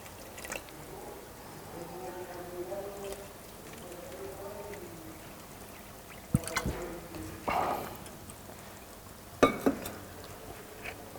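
Water being poured onto crushed mineral during a laboratory test: an intermittent liquid splash and trickle with a few sharper pouring bursts, close and fairly quiet, under a soft background voice.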